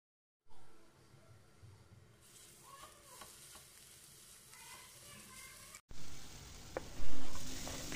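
Crushed garlic cloves frying in vegetable oil in a pan over medium heat, a steady close sizzle that swells louder near the end, with faint stirring.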